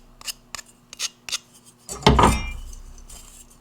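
Metal tile edge trim being filed by hand: a few short, light rasping strokes, then a louder metallic scrape or clatter that rings and fades out slowly, close by with no talking.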